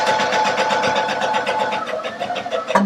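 A Baby Lock Allegro sewing machine stitches at a steady, rapid mechanical whir, running continuously and close by for about three seconds with a brief clunk at the end.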